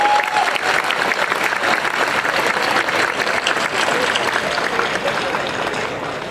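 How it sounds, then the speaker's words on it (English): A quick round of applause from an audience at a city solar celebration, loud, dense clapping that continues steadily and tapers slightly at the end. "Can you give them just a quick round of applause?"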